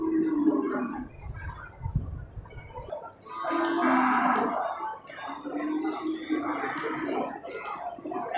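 Grey jumbo Simmental cross bulls lowing at an outdoor livestock market, several deep drawn-out moos overlapping one another amid background chatter and market noise.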